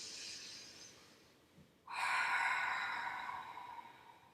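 A deep breath during Pilates thoracic breathing: a soft airy exhale fades, then after a brief pause a strong, close inhale rushes in and slowly tapers off.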